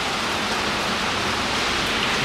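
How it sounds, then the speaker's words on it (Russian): Steady rain falls in a dense, even hiss with no pauses, fairly close and moderately loud. "Дождь расходится."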